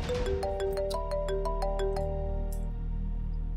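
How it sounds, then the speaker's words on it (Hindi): A telephone ringtone plays a repeating melodic pattern of bright tones, moderately quiet over a low background hum, ringing on unanswered in a household drama scene. "कोई फोन नहीं उठा ले, कब से बज रहा है?"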